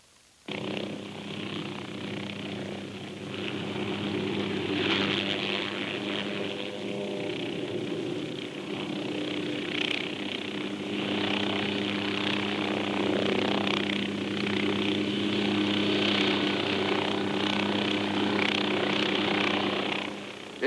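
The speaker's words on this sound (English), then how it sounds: "Next, you pivot the helicopter around the tail rotor." An OH-6 helicopter pivots around its tail rotor on the ground, a steady, continuous engine and rotor drone with a low hum, sounding at moderate distance with no talk.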